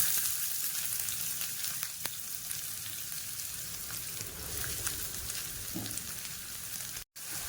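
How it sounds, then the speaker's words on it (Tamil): Steady sizzling of finely chopped onions frying in hot oil in a pan, a dense crackling hiss throughout with a brief clack near the end. "இதில் ஒரு மீடியம் சைஸ் வெங்காயம் வந்து ஒரு மூணு வெங்காயம் நல்லா பொடியாக நறுக்கிட்டு இதில் சேர்த்துக்கிறேன்"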